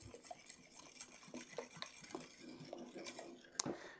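Cake batter for an Irish apple cake is stirred in a bowl, a quiet close-up of soft wet sloshing with light spoon taps and scrapes against the bowl in an irregular rhythm, ending on a sharper clink.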